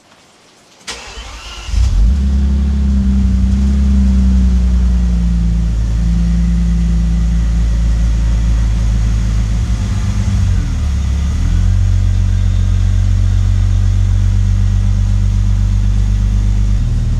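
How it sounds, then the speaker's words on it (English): A Bentley engine cranks and catches on a cold start, then settles into a loud, steady idle with a deep exhaust rumble and a brief rev midway. "let's try a cold start with the exhaust"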